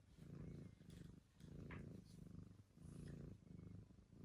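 Small black-and-white cat purring close up, a steady rumbling purr swelling and fading in rhythmic breaths, loud and continuous with no talk over it.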